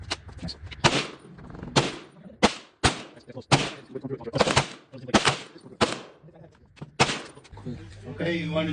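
About ten sharp, loud gunshots ring out one by one at an outdoor shooting range in Tennessee, spaced roughly a second apart, with people talking faintly between them.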